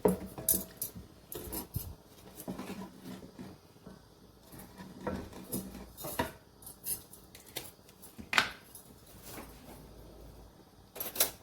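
A spoon clinks and scrapes repeatedly against a pot while chicken stock is stirred into a Turkish vegetable soup, producing irregular metallic taps and rattles of moderate loudness.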